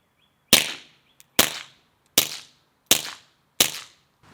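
Five loud, evenly spaced gunshots fired through a 3D printed suppressor, each a sharp crack with a short decaying tail, heard nearby with no talking.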